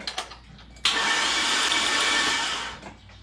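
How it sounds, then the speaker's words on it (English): A Chevrolet 2500 HD engine with new heads and cam cranks over for about two seconds in a steady, loud, close whir that starts abruptly and then tapers off, with no talking. "let's crank this thing over and see what happens"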